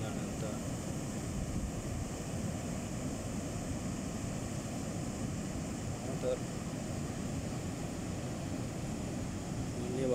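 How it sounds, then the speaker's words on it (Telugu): Fast-flowing flood water at Teedrala waterfall rushes as a steady, broad roar throughout, with no talk over it. "వాటర్ ఎంత స్పీడ్గా వస్తుందండి అంత"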